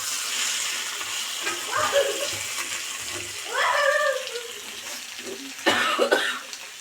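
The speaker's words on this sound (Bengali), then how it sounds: "একটু কাশি হয়েছে না কাশিটাও কমছে না" A few separate coughs from a person cooking in a kitchen, spaced out over several seconds and heard close, with running-water noise and faint background sounds in between.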